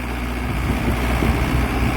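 A 1994 Mahindra 475 tractor with a heavily worn engine runs steadily, a close, loud low diesel rumble and drone with no talk over it.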